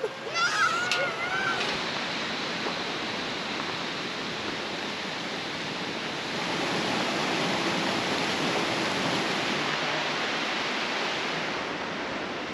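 A waterfall beside a picturesque village on the Annapurna trek in Nepal, a steady broadband rush of falling water filling the scene throughout, with a few brief voices near the start.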